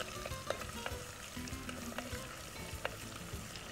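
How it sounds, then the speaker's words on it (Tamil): Mint and coriander sautéing in a pan, a close, steady sizzle with scattered stirring taps and clicks. "புதினா, கொத்தமல்லி, போட்டு நல்லா வதக்கலாம்."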